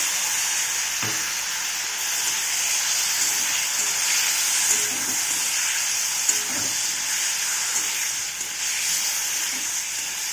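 A homemade spice mix fries in a hot pan, a continuous loud sizzle with scattered scraping taps of stirring throughout.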